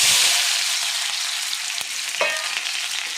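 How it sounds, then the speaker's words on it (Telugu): Sliced onion and green chilies hiss in hot oil for a potato curry, a loud continuous sizzle with a couple of sharp utensil clicks partway through. "దీంట్లో ఉల్లిపాయ పచ్చిమిర్చి వేసేసుకుందాం"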